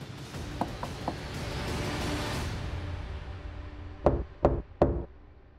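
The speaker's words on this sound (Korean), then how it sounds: "큰형의 집을 찾아가서 문을 두드립니다." Three loud, close knocks on the door of an older brother's house, evenly spaced, landing after a stretch of muffled background rumble.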